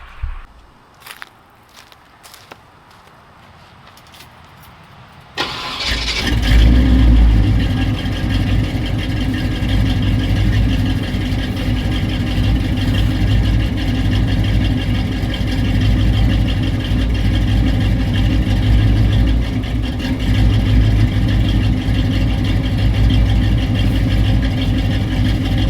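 A small engine fitted with a cheap imitation carburetor bought online cranks and catches at about five seconds. It then settles into a steady, loud idle that runs on alone until the end.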